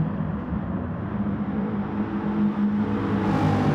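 Race cars from a Sainte Croix round of an online touring-car championship in a racing video game, including a DCC Veyron and a Michelin Subaru, drone steadily with a continuous engine whir and rising revs, loud and unbroken with no voices.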